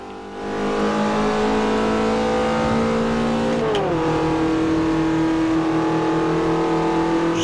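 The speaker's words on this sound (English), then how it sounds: "Car is loud as hell. I mean, all the cars on here are very loud." A loud, close race car engine roaring at high revs in Forza Motosport 4, with a brief dip as it shifts gear midway before climbing again.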